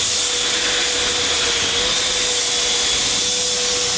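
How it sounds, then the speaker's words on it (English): Filler is sanded on the bow of a Leopard 45 catamaran, heard as a steady, continuous abrasive whirr with a constant tone, close and fairly loud, with no talking. "just sanding off that layer that he did yesterday and checking the highs and lows"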